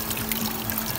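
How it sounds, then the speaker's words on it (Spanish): Water flows from a garden fountain with a steady, even pouring and trickling wash, moderately loud and continuous with no voices. "entonces ahí va a perder agua la fuente"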